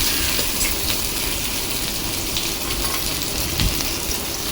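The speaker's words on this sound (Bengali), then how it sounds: "এই আদাটা এর মধ্যে দিয়ে একটু ভাজা ভাজা করে নিতে হবে" Grated ginger frying in a pan for a boal fish and potato curry, giving a steady, close hiss and crackle of hot oil throughout without pauses.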